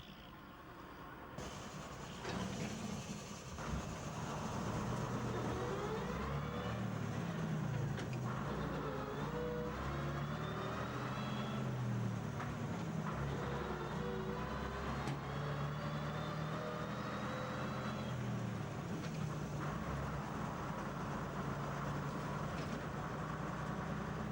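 A preserved early-1960s Regent double-deck bus from the Bradford fleet, in excellent condition, drives with a throaty engine note that rises and changes through the gears, heard up close and continuous without speech.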